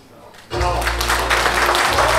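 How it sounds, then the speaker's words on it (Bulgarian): Wedding guests break into applause after a short quiet lead-in, a sudden loud wash of clapping that continues steadily to the end, with voices mixed in. "Аплодисменти"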